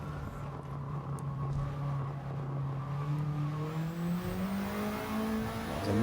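A race car in Gran Turismo 7 pulls hard out of a corner, its close, loud engine droning steadily and climbing in pitch as it accelerates, with a faint hint of tyre squeal and no talking.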